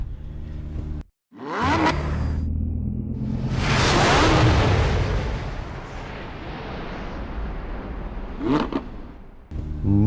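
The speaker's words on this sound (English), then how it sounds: "Let's rush and get inside the vehicle and start it and go." A car engine cranks and roars to life, with a sharp start, a swelling rev in the middle, and another burst of engine noise later before it cuts off, loud and close with no talk.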